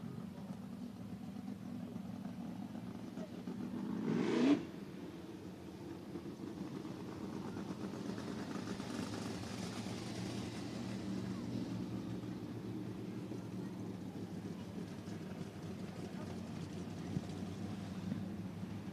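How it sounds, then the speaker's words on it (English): 360 sprint car engines running hot laps at Cottage Grove Speedway, a continuous distant roar with a brief louder surge early on, steady engine drone throughout. "Final four cars in hot laps for the 360 sprint cars."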